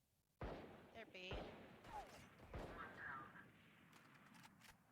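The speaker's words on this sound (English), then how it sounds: "Heard a couple of gunshots swing by my head." Gunfire in the tactical shooter Valorant cracks in several sharp shots, some near and some distant, amid in-game sounds and a player speaking over them.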